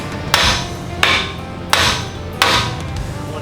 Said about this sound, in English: get a big hammer and shock the knuckle to get the paper out of the knuckle.